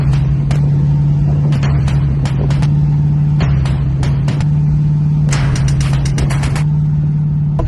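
A 1979 Corvette cruises along with a steady low engine drone, broken by repeated sharp clicks and knocks from inside the cabin.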